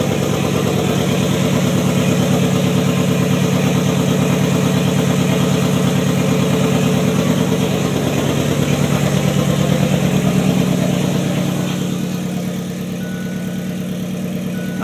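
A Ford Probe with four-wheel steering and a swapped-in FE3 engine idles steadily, a close, loud, even mechanical rumble with a rapid regular pulse that eases slightly near the end, with no talking.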